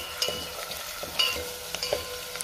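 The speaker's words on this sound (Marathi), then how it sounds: "आता ह्यामध्ये मी चरबी घालते आणि ती सुद्धा तेलामध्ये चांगली आपण परतून घ्यायची" Mutton fat fried in oil with onions, a soft crackling sizzle under light scraping and occasional clicks of a spoon stirring the pan, close and fairly quiet with no speech.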